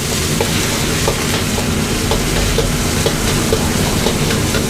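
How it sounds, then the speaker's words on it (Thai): Garlic and minced pork stir-frying in a hot pan, with a loud, continuous sizzle and the rhythmic scrape and clack of a spatula stirring steadily up close, and no talking. "นำกระเทียมลงผัดสักเล็กน้อยนะครับ เพื่อให้กระเทียมหอม แล้วก็ตามด้วยหมูสับเลยครับ"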